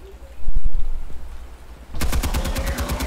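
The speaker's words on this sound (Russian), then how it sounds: "А, опять стрельба." Gunfire in the Batman Telltale Series game: a few heavy thumps, then a rapid automatic burst of sharp, evenly spaced shots rattles close and loud.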